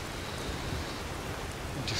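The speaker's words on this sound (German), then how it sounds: "Die nennt sich Heavy Rain. Es verstärkt den Regen ungemein." Heavy rain in Skyrim, boosted by the Heavy Rain mod, falling as a dense, steady hiss of drops on the ground with no voices, loud and unbroken throughout.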